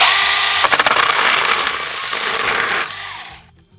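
A tiny chainsaw cuts into split wood, its loud buzzing whine bogging and stuttering as it bites, then the motor winds down and cuts off near the end.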